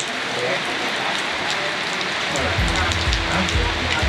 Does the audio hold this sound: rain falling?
yes